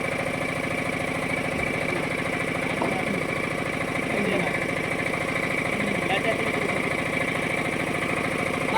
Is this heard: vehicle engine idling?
yes